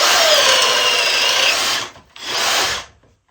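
A Makita 18V right-angle stud and joist drill bores into wood with a speed bore auger bit, a loud, harsh grinding whir that stops briefly, restarts for a second short burst and then falls silent.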